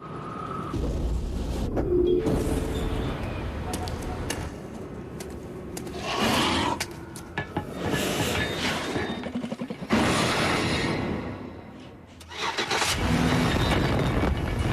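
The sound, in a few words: Chevy Impala V8 engine in TV advertisement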